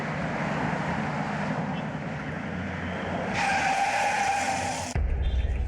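A car swings around in a sharp turn, its tires skidding and squealing loudly over the engine noise, the screech rising before cutting off abruptly.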